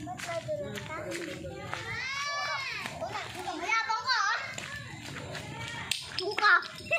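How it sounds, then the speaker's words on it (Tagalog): Children play a game of kantor outdoors under an overcast sky, with lively overlapping kids' voices, shouts and occasional claps or taps at moderate distance. "Dito mga bata naglaro ng kantor to."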